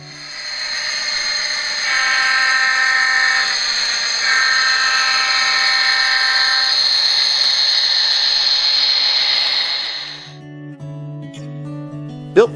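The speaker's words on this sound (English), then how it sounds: "SD40 diesels with full digital sound" An Athearn SD40 model diesel locomotive plays its digital sound: a loud, steady mechanical drone with a high whine runs for about ten seconds, then drops away to a quieter idle.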